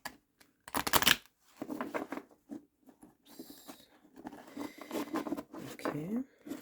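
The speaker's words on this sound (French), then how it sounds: "on va commencer à tirer la première carte" Tarot cards shuffled and drawn from a deck, giving bursts of papery riffling and slides in short clusters, close and fairly quiet, with someone talking in French between the card sounds.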